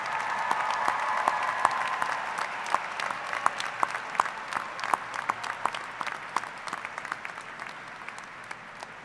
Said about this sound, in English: let's hear a round of applause for your family and your friends